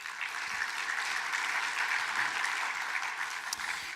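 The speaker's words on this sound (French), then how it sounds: "Merci de les applaudir." Steady audience applause at a closing address of a conference, a dense wash of many hands clapping continuously at moderate distance with no talking over it.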